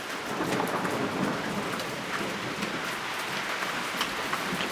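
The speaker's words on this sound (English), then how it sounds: "Alright, well, here comes the rain." Heavy rain pours steadily during a severe thunderstorm with damaging winds in southeastern Pennsylvania, a dense, even hiss broken by faint crackling drops throughout.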